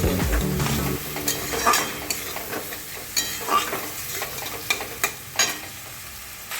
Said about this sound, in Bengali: আমার মোটামুটি পেঁয়াজগুলো আস্তে আস্তে ভাজা হয়ে গেছে